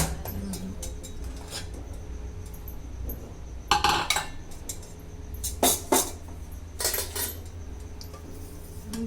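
A metal ladle knocking against pots in a real Indian home kitchen, scattered sharp clinks and clatters in small bursts over a low hum of background noise.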